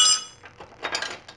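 A 19 mm wrench linked into an 18 mm wrench breaks loose a bolt on the front suspension upper control arm of an Aston Martin DB9, with a bright metallic clink followed by a few soft clanks and scrapes.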